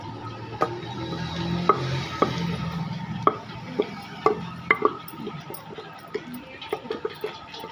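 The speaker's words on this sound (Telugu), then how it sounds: "ఇప్పుడు చింతపండు వేసుకొని దంచుకోవాలి ముందుగా నానబెట్టిన చింతపండు వేయాలి" Soaked tamarind being pounded in a mortar, giving a series of irregular, fairly close thuds and knocks at a loose rhythm, each one short and sharp, with no voices.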